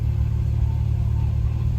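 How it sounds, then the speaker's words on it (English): A 2007 Porsche 911 Turbo with 43,000 miles idles and revs with a steady, deep exhaust rumble, moderately loud and continuous without talk. "Exhaust sounds good, but it's not loud"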